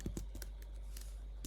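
Typing on a computer keyboard while filling in an Excel spreadsheet, a short run of crisp, close key clicks in an uneven rhythm over a quiet background.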